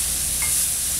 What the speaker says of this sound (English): And either the bouillon, which I'm using, or the salt. Stir that around.